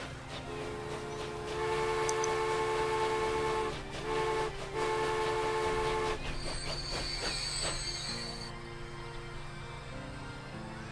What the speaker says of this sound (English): We're here in Dubbo watching our passenger train come in and go out.